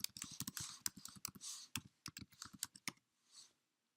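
Quick bursts of keystrokes on a computer keyboard, close and crisp, a rapid run of clicks for about three seconds then a brief pause and one last soft tap.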